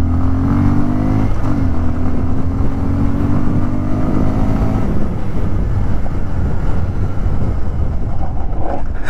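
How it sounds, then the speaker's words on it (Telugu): A 2024 Bajaj Pulsar 150 twin disc motorcycle on the move, its steady engine drone shifting pitch early on, buried under loud, constant wind rush. "2024 బజాజ్ పల్సర్ 150 ట్విన్ డిస్క్కి సంబంధించిన నా రైడ్ ఎక్స్పీరియన్స్"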